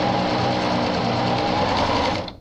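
A sewing machine runs a plain straight stitch with a short stitch length through layers of ruched, gathered fabric, a close, continuous whirring hum that holds steady and then stops abruptly.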